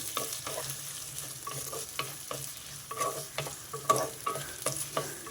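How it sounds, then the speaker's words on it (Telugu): Chopped onions and green chillies tossed into a pan with fried shahi jeera and kasuri methi, stirred with repeated scraping strokes over a steady low sizzle, close and moderately loud, no voices. "కట్ చేసి పెట్టుకున్న ఉల్లిపాయలు పచ్చిమిర్చి వేసేసా. దీన్ని చక్కగా కలిపేసుకుందాం."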